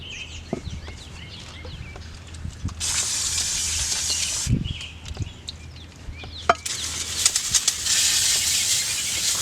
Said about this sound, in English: now I'm going to spray all this down to remove the grease, the dust, the debris